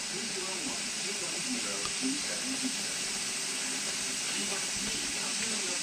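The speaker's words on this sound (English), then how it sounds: "So now that I have a steady stream of steam" Steady steam hiss from a Nesco electric smart water bath canner during canning of ground cherry sweet sauce, a continuous close broadband rush with faint bubbling underneath, no talking.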